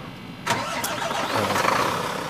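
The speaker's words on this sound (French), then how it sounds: "je mets en route le camion" A heavy truck engine cranks and catches, a sudden burst of noise settling into a low, rumbling idle close by, with no talk.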